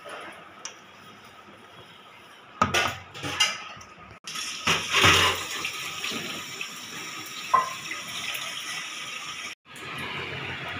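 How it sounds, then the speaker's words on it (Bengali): Tea dishes are washed under a running tap, with water gushing in uneven surges and faint clinks of cups and utensils, briefly pausing before the flow resumes. "এদিকে দিদি বাসন ধুয়ে নিচ্ছে, চা খাওয়া হয়ে গেছে আমাদের, চায়ের বাসন ধুচ্ছে।"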